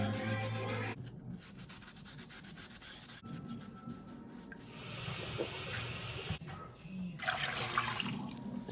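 Potatoes being scrubbed with a clean sponge under running tap water, soft rubbing and splashing close up and fairly quiet, with brief louder bursts of water flow.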